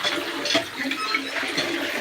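Water pours steadily from a pipe into a drinking trough for cows in a farmyard, a continuous close splashing rush with no talk over it.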